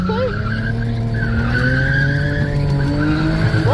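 Tires on a manual Lexus GS300 squeal and skid continuously while drifting at a speedway, with a wavering high screech over the engine's steady roar, and a voice talks faintly underneath.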